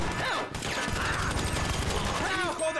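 Gunfire in GTA 5 during a heist, a dense burst of shots mixed with game noise and shouting voices.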